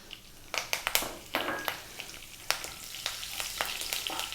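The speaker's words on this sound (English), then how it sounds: "We're then going to drop in the fresh curry leaves" Fresh curry leaves hit hot oil in a pan for dal, giving off a bright, crackling sizzle with a series of sharp pops and spits over a softer steady hiss.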